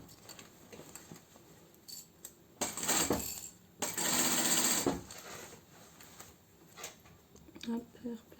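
A domestic sewing machine stitches flat fabric for a fabric plant-pot cover with piping, running in two short bursts of a second or so each, close and moderately loud, with quiet handling noise between.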